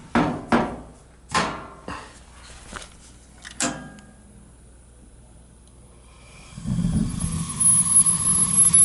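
A gas boiler lights during a service call: several sharp ignition clicks and knocks come first, then after a pause the burner catches with a loud, steady roar that continues to the end.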